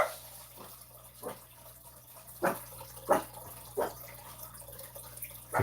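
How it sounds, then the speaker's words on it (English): A wet watercolor brush lays water onto paper, giving about six soft, separate dabs and swishes at irregular intervals over a low steady background hum. "Gonna put down a bit of water."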